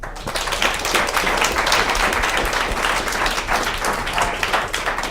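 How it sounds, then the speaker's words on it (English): A room of attendees applauds a panel discussion about Al Jazeera America: loud, dense, even clapping from many hands, close and unbroken from start to finish with no talking over it. "Give a round of applause"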